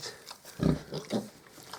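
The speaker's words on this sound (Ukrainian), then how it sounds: "так що ось такі поросятка гарненькі" Piglets grunting in short, low bursts, three or four snorts spaced unevenly and close by, with no talking.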